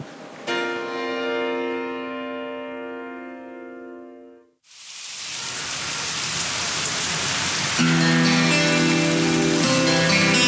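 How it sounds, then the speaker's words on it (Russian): Heavy thunderstorm rain pours steadily with a dense hiss after a sustained tonal passage fades out; music with a low tone returns over the downpour. "Гремит гроза, бьет дождик с крыш"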